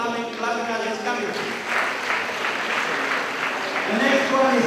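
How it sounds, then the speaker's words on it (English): Applause from a graduation audience patters on steadily while a speaker talks over it, the clapping swelling slightly toward the end. "Let us continue clapping as it's coming"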